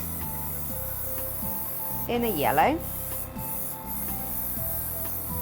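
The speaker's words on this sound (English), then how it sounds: "So I'm just going to spray one of my cupcakes" An airbrush sprays ethanol-based yellow paint onto a sugar-paste-covered cupcake, giving a steady close hiss that runs throughout, with a voice speaking over it.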